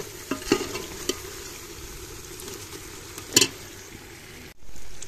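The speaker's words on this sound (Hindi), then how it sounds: "गोश्त अच्छी तरह फ्राई हो गया" Gosht (meat) fries in a pot with a low continuous sizzle, broken by a few scraping stirs and clinks, ending in a sudden hiss near the close.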